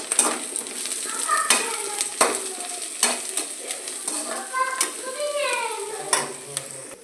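Onions and crushed spices for a crab fry are sautéed in a pan, with a close, steady sizzle under repeated scraping strokes of a spoon and a light clink of metal.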